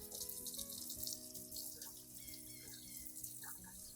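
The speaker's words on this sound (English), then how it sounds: "Next, rinse the entire plant under clean running water." Water runs steadily from a tap as a houseplant, a wilting peace lily, is rinsed beneath it, a continuous close splashing hiss with small irregular spatters from the leaves and roots.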